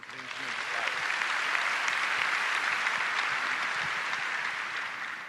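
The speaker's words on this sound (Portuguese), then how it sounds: "Vamos aplaudi-los também." A church congregation at a Catholic Mass during a 2023 camp gathering breaks into sustained applause, a dense even wash of many hands clapping that holds steady throughout and eases slightly at the end.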